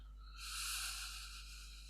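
A slow exhale during a guided breathing exercise, a soft, steady airy hiss that swells and then fades over about a second, heard alone above a low background hum.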